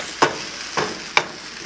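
Tomatoes going into a hot pan over raised heat, sizzling steadily with three sharp spitting bursts as pieces hit the oil.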